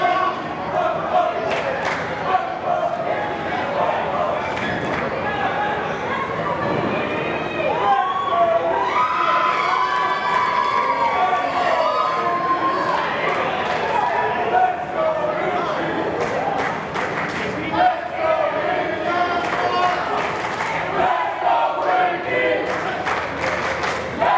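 Wrestling crowd at an indoor show roaring steadily, with whoops, whistles and shouts layered into a loud, continuous din as action gets underway.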